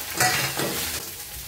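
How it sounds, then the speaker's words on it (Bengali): Small mourala fish frying in mustard oil give a bright, crackling sizzle, with a brief clatter of a utensil in the pan near the start and no talk. "আচ্ছা, মাছটা ভাজা হয়ে যায়"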